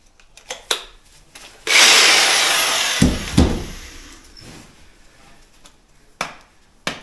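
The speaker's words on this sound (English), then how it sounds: "it's just drilling before, that's why it's taking so long." A power drill works into a door, with a sustained loud whirring burst about one and a half seconds long, followed by sharp knocks and scattered clicks of handling.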